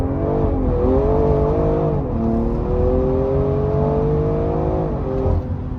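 A tuned BMW E30 launching with wheelspin, its engine revving hard and droning continuously as the tires lose traction, loud and close, with a brief pitch dip near the start.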